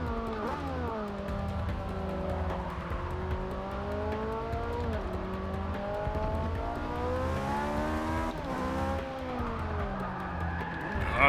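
A Ferrari 458 Speciale lapping Spa, its engine note rising and falling through gear changes as it drives hard, with tire skidding mixed in over roughly eleven seconds of continuous loud engine sound.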